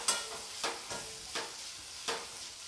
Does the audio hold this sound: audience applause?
no